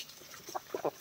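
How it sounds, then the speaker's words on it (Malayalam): A rooster gives a few short, faint calls from some distance, brief bursts on a quiet rural background. "പൂങ്കോഴി കൂവാൻ തുടങ്ങി കേട്ടോ"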